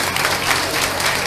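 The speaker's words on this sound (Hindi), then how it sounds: "आप इनके लिए ताली नहीं बजाएंगे।" Audience at a Srimad Bhagwatam katha in Garhi, Delhi, applauding: a steady, dense wash of many hands clapping together, loud and close, with faint crowd murmur beneath.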